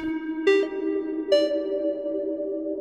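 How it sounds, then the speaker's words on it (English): A Lorre-Mill Keyed Mosstone synth runs through a Death by Audio Rooms reverb pedal in gate mode; two notes strike in turn and swell into a lush, sustained harmonic drone that rings steadily to the end, with no voices. "re-engage rooms, gate mode, and let's hear it"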